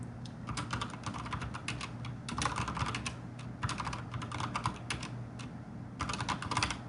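Entries are typed on a computer keyboard into accounting software, with steady runs of close, clicky keystrokes broken by short pauses, no voices.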